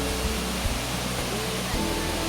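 Water falling at Arikkal waterfall gives a dense, steady roar of broadband rushing noise, continuous and fairly close, with no breaks.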